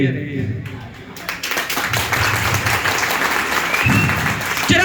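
Applause from an audience at a seminar hall in Akhnoor, Jammu: dense, steady clapping that starts after a brief quiet stretch and continues loudly to the end.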